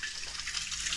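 Used engine oil drains from a Maserati Levante, a steady close pouring gush of liquid running continuously and alone.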